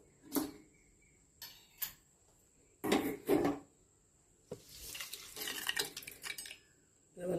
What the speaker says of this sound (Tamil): தாளிப்பு சேர்க்குறோம்.